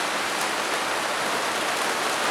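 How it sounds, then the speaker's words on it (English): Heavy rain pours down outdoors in a dense, unbroken hiss of drops on surfaces, loud and close throughout, with no voices. "I don't know how, but the rain started"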